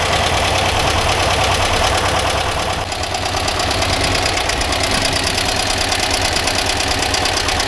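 A 1982 air-cooled VW Vanagon Westfalia engine idling while warming up, a loud, steady, close rattling chug with a brief dip in level midway, no voices.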